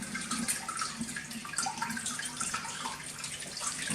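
A small artificial waterfall splashes steadily into the pool of an indoor crocodile enclosure built with rocks. The flow is a continuous, bright trickling wash that stays at an even level throughout, with no voices over it.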